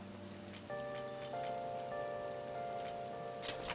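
Rain patters in the video game Persona 5 Royal, a light steady wash broken by scattered brighter drop bursts, mixed under soft sustained musical tones with no talking.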